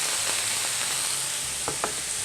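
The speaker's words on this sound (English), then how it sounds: "we're going to add our authentic Rosé wine and our kikkoman stir-fry sauce" Beef stir fry in a hot pan after Rosé wine and Kikkoman stir-fry sauce go in, a dense steady sizzle and hiss with a few brief clinks of stirring near the end.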